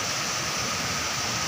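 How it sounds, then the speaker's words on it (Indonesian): Fast, swollen current of the Citanduy river at Sirnagalih, Tasikmalaya, rushing as a steady, dense broadband roar that fills the short stretch without letting up, close and fairly loud, with no voices. "Inilah spotnya Sungai Citanduy yang sedang deras-deras airnya"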